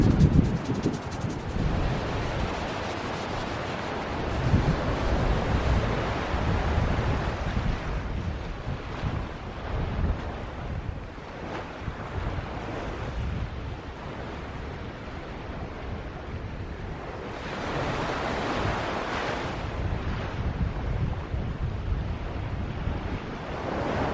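Ocean surf rolls onto the coast in a continuous roar while gusty wind buffets the microphone outdoors at a plein air painting spot. The waves swell and fade loudly for the whole stretch, with no voices.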